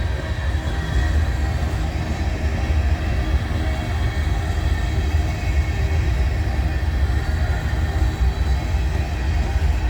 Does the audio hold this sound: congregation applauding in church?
no